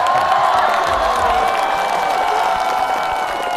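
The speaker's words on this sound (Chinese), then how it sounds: "别鼓掌了" A studio audience at a stand-up comedy show claps and cheers in a loud, sustained roar, with whoops and raised voices mixed into the continuous applause.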